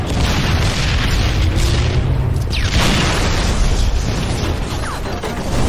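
A Spartan laser blast in a Halo 3 online match, a loud sustained roaring burst with a sharp whooshing discharge midway, dense game noise throughout.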